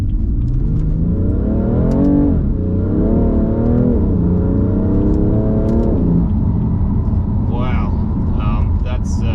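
A 2016 BMW M3 Competition accelerates hard on the road, its engine note rising through the gears with loud, close revving, brief dips at shifts, and road noise underneath.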